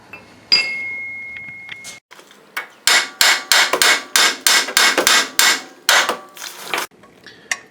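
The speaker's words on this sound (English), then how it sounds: "we will use one of these pickle forks to pound in there to get it to release from the steering knuckle." A pickle fork is hammered in to free a ball joint from the steering knuckle on a Trailblazer or Envoy, about a dozen loud, sharp metallic strikes in a quick, uneven series, close up after a brief ringing tap.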